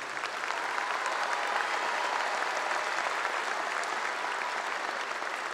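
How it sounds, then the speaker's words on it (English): A high school graduation audience applauds the students of the class of 2019, a dense, even wash of clapping from a large crowd that holds steady throughout. "Please join me in a round of applause for these outstanding students"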